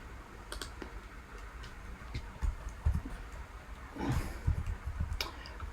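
A computer mouse clicks faintly during crypto spot trading on a computer. Soft, scattered clicks and taps come at irregular intervals over a low room hum, with no talking.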